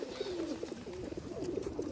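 Pigeons coo softly and repeatedly at a loft, a rolling, throaty murmur of overlapping calls that pulses on and off at a moderate, even level with no talk.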